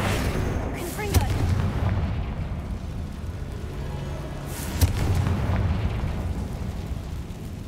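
Booming fire-spell blasts from Hogwarts Legacy on PC, two sharp explosive bursts standing out over a dense, rumbling game soundscape.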